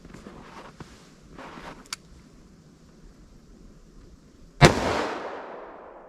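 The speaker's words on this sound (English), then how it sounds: "I want to make sure that I make these shots over the chronograph without pulling them" A single sharp, loud gunshot from a short 2-inch barrel revolver fired over a chronograph cracks out close by, its echo decaying afterward, preceded by faint handling noises.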